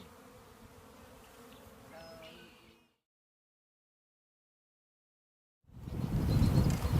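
A huge swarm of roughly fifteen thousand bees buzzes outdoors, a faint continuous droning hum that cuts to silence midway before returning louder and closer with rustling.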